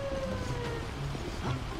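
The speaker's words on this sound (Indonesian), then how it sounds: "Damkar datang teman-teman." A fire truck siren in GTA 5 wails steadily at moderate distance, a continuous rising and falling tone with no voices over it.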